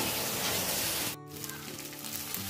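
Ginger garlic paste fries with browned onions in a pan, making a dense, steady sizzle. It dips briefly partway through, then carries on with light stirring scrapes. No talk.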